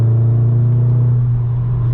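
A Volkswagen MK7 Golf R with a Nameless Performance catback exhaust gives off a loud, close, deep droning rumble that holds steady at a constant pitch.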